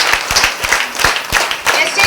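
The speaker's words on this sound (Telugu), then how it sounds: "ఒకసారి క్లాప్ చేయండి అందరూ" An audience claps together at a talk, with a quick burst of sharp, fairly loud hand claps that keeps up for about two seconds, nearby and with no voices over it.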